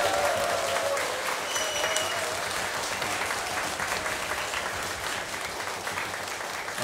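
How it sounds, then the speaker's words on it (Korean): An audience claps at a Liberation Day history concert at the National Museum of Korean History, a dense, sustained round of applause that holds steady and tapers slightly toward the end. "큰 박수 한번"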